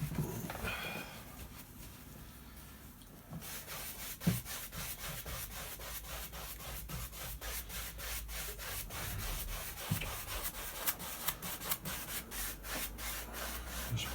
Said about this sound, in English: Now with a 2 inch brush, I'm just going to blend